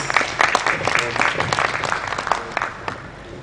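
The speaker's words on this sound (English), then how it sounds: "A round of applause for Mr. Stuart, please." Conference audience on financial fraud and cybercrime applauding, a short burst of steady, moderately loud clapping from a room of attendees.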